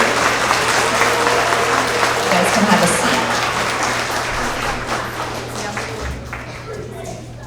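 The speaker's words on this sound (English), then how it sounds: "Let's have a round of applause for all of our TK and kindergarten Tigers of the quarter." Applause for kindergarten and TK students honored at a school award assembly, a dense, steady clapping crowd filling the room, with a voice speaking over it near the end.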